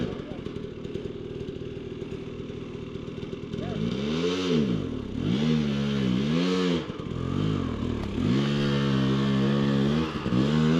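Dirt bike engine on a trail, steady idle burble that swells into repeated rising and falling revs, loud and close, with brief dips between throttle blips.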